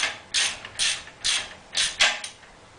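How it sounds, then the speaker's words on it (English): A ratchet wrench tightens a back nut on a Rocknroller cart, giving five or six short clicking ratchet strokes in an uneven rhythm, close and fairly quiet, with no talking. "Tighten it up."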